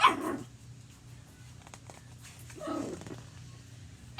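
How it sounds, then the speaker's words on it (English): A single pet dog gives a couple of short barks, one at the start and another midway, fairly distant and faint over a quiet indoor room. "do you hear my dog, George?"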